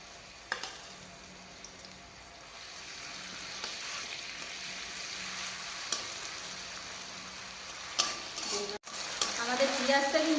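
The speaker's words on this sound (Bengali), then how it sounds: "আমি আলুটাকে কষানোর জন্য আমি মশলাগুলোকে একটু ভালো করে ভেজে নেব।" Spices fry in a pan beside lightly browned onions for a potato ghugni, making a continuous low sizzle with occasional stirring scrapes that grow louder near the end.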